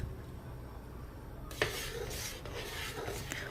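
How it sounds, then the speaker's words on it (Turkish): A spoon scrapes and stirs through thick yogurt tarhana soup boiling in a pot, starting with a faint bubbling simmer, then a sudden clank followed by repeated rasping stirs, close and moderately quiet. "Tam 2 saat boyunca sabırlı bir şekilde karıştırarak kaynatıyorum."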